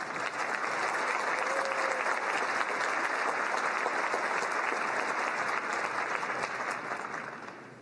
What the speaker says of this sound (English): Let's have a round of applause for these individuals.